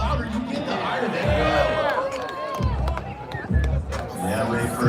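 Large crowd at an X Games BMX event in Sacramento, a steady roar of cheering and chatter rising and falling with a loud announcer talking over it throughout.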